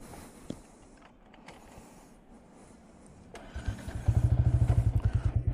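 A motorcycle engine starts on a village road in Bangkalan and settles into a loud, rhythmic, close throbbing that pulses steadily through the final seconds, after a quieter stretch of faint background noise.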